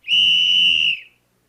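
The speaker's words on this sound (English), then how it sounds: "when the referee blew his whistle" A referee blows a single shrill, sustained whistle blast on the ice at a hockey game; it lasts about a second and is heard clearly on its own.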